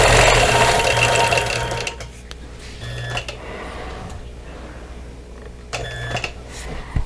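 A sewing machine quilting around a plate motif on a quilt, a loud mechanical whirr at the start, then quieter intermittent short bursts of stitching with pauses between.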